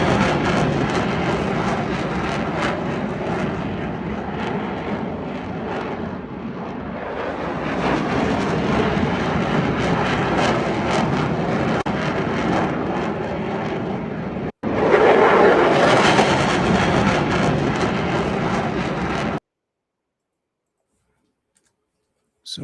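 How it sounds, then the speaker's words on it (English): CF-18 and F-35 fighter jets fly over Parliament Hill in a loud, sustained roar that builds and surges, then cuts out abruptly into near silence at the end. "there was a flyover at Parliament Hill today with CF-18 and F-35s"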